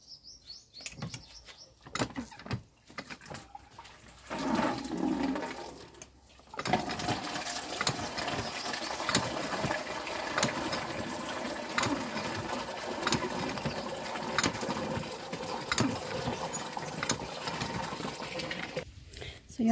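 Shells are washed under running tap water, a steady rushing stream after some scattered handling noises, with faint birds chirping in the background.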